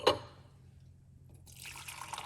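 Fresh mint tea being poured, a brief close splash followed by a quiet pause and then a soft, steady trickle of liquid.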